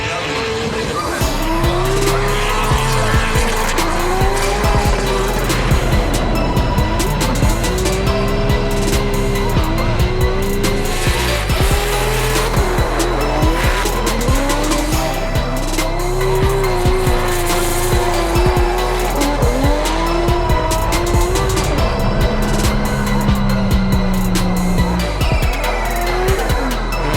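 A BMW drift car on Falcon tires at Formula Drift Utah roars continuously at full throttle, its tires squealing in long wavering howls as the engine note rises and falls through the run, loud and close.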